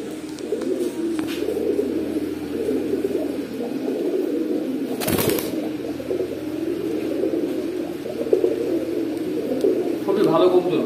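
Stone-eyed pigeons coo steadily in low, rolling tones under people talking nearby, with a brief loud clatter midway.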